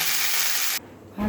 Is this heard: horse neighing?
no